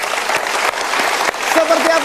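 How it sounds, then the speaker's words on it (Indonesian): Audience applause on a motivational TV talk show, a dense continuous burst of clapping filling the short moment, with a faint tone near the end. "kita berikan tepuk tangan"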